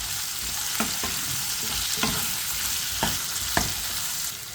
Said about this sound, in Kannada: ಹಾಕ್ಕೊಂಡು ಚೆನ್ನಾಗಿ ಮಿಕ್ಸ್ ಮಾಡ್ಕೊಳ್ಳೋಣ